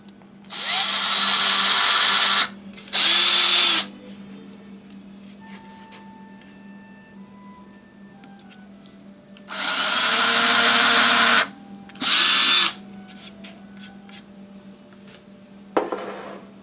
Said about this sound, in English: And we'll drill a couple small holes.